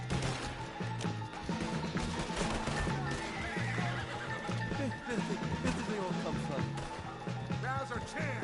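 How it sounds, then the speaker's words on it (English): A horse in Red Dead Redemption 2 neighs, with clip-clopping hooves and commotion under loud, urgent shouting voices, all fairly close throughout. "Put Strauss on the back of John's horse, and let's get out of here"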